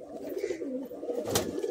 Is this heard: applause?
no